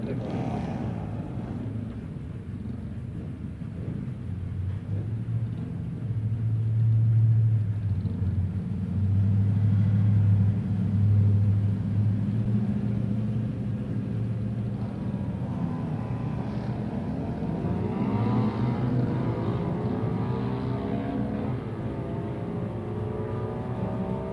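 Drag racing motorcycles at a Wednesday night drag strip event, heard as a sustained low engine roar that swells loud mid-run and then fades into a distant, rising drone.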